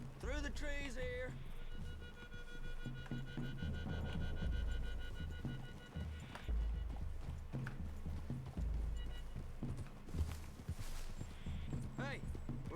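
Horse hooves clip-clop steadily at a walking pace while game music plays and a voice speaks over them.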